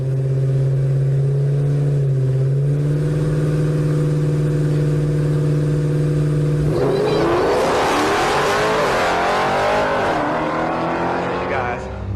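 A B5 Blue ProCharger-supercharged 6.2 Dodge Challenger holds a steady loud idle, then its engine revs hard, rising and falling in pitch with a supercharger whine, close and loud throughout.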